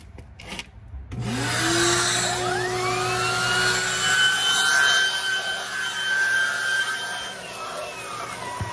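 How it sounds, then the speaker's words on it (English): A steady, loud motorized whir starts after a second of quiet and runs continuously, with shifting tonal hums as a vacuum's turbo brush head agitates Cadillac XT5 car carpet. "this turbo brush, when you turn it on, will agitate the fibers in the carpet"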